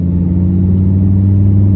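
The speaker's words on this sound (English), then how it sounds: "for Julia because she's going to be driving my Audi R8 for the very first time" An Audi R8 sports car's engine holds a loud, steady low rumble from close range, a deep droning hum at constant pitch with no talk.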